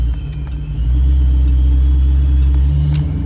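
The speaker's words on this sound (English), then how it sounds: "now the injectors turn off whenever you let off the throttle, so that's why it does that" A 1973 Ford Mustang Mach 1 engine settles as the throttle is released, a loud, steady low rumble that deepens and fills out after the first second, close and continuous with no voices.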